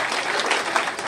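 Steady, dense applause from a Narcotics Anonymous meeting audience honoring longtime members, a continuous crowd clapping with no pauses over about a second.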